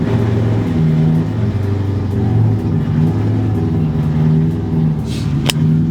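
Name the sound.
car engine idling badly and misfiring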